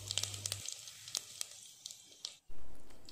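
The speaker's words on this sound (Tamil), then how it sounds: "இப்போ நல்லா பொரிஞ்சிட்ருக்கு." Whole spices—cumin, fennel, pepper and cinnamon—fry in hot oil in a pot, giving faint, scattered crackles and pops over a quiet hiss, with a low hum cutting out early and a louder broadband rush near the end.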